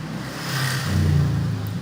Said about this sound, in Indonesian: Maaf, ada motor sedikit gangguan.